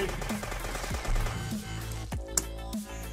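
Repeated gunfire in the video game Dead Bits, quick bursts of shots every half second or so, with a sharp crack near the end over a low game soundtrack.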